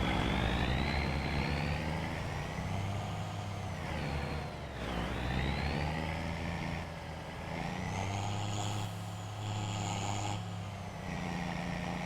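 A turbocharged vehicle engine in Farming Simulator 25, heard from outside the vehicle, drones loudly and steadily with rising and falling turbo whine and a brief dip in the middle.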